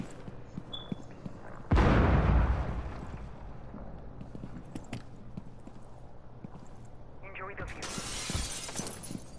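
Glass shatters loudly in an intense tactical shooter game with enemy drones, a sudden bright crash followed by tinkling debris, later another burst of breaking glass, while players talk over the game sounds.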